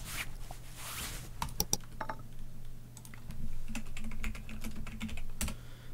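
Typing on a computer keyboard in the video game Car Mechanic Simulator 2015, used to order a steering rack: a quick run of light, close clicks and taps, with short pauses between bursts over a faint steady hum.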